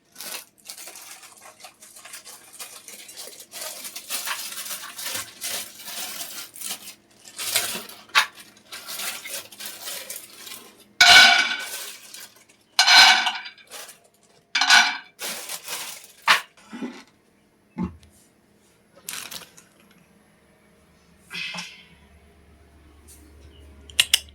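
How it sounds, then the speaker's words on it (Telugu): Peanuts dry-roasting in a pan, a scattered run of rattling, scraping clicks and light metallic knocks as the nuts are tossed, with several sharper clatters midway and no talk. "ముందుగా అయితే వేరుశనగ పప్పులు వేయించుకుందాం"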